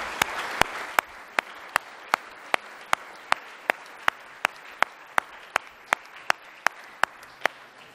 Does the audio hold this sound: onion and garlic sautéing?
no